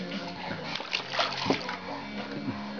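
A child splashes in bath water, with soft irregular sloshing and splatters through the moment and a voice now and then over the water.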